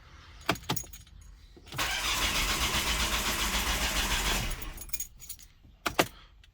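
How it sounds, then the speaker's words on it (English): Volvo engine cranking and failing to catch, a steady whirring churn lasting a few seconds, bracketed by short clicks and clunks, with no talk over it. "We're going to give it another crank, see what it does."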